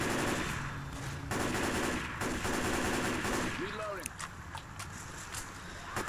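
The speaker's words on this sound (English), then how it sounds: "Oh, this shotgun just sounds horrible." Rapid gunfire from a shotgun in Left 4 Dead 2 during the Cold Stream co-op campaign, repeated loud blasts and clatter with players talking over the action.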